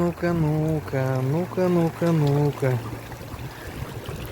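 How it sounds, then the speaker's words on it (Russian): A glacial meltwater stream in the Suusamyr valley mountains rushes steadily in the background, largely masked by someone talking loudly and close over it. "Ледниковая вода, ребята, ледниковая вода."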